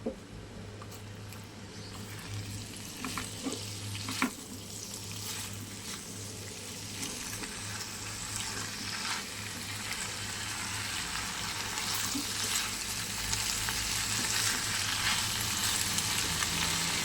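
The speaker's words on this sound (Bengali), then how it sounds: "এখন আমি চিংড়ি মাছটা দিয়ে দিলাম। চিংড়ি মাছটা দিয়েও আমি এখন কষিয়ে নেবো ভালো করে।" Prawns frying and being stirred with spices in a pan for a Bengali prawn and fig curry, a steady close sizzle with occasional scraping stir strokes, growing slightly louder toward the end.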